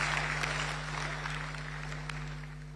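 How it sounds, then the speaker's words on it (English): Applause ripples through the audience at a book launch on labour law in Ghana, a faint, sustained patter of many hands clapping over a steady electrical hum. "Please, let's clap for him for the book review."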